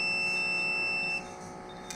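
A steady electronic alarm tone with a high pitched beep drones on from an MGPS monitoring device, then drops in level partway through, with a brief click near the end.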